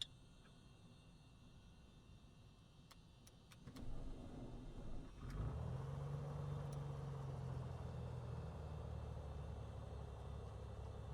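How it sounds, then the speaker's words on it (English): Propeller aircraft engine starting in Microsoft Flight Simulator: a few faint cockpit clicks, then a starter whir building around four seconds and the engine catching into a steady low drone that holds to the end, no voices. "Start the engine."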